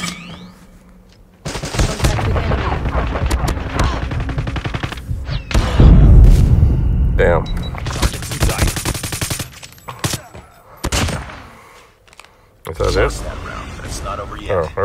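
Dense video-game gunfire during a 2-on-2 gunfight: loud, close bursts of automatic fire and single shots with a heavy boom partway through, continuing in rapid clusters with brief lulls, alongside occasional voices.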